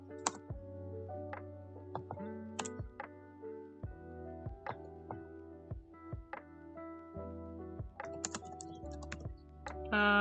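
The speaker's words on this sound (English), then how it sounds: "I'm not even talking, I'm just typing." Someone types on a computer keyboard, a close, irregular run of crisp key clicks and clacks with short pauses, with no talking.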